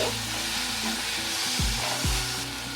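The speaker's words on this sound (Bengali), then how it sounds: "ফুলকপি গাজর এটাকে একটু নেড়ে চেড়ে আমি হালকা করে ভেজে নেব" Cubed cauliflower, carrot and onion being stirred and lightly fried in a pan for a corn soup: continuous sizzling with a low steady hum underneath and occasional scraping of the stirring utensil.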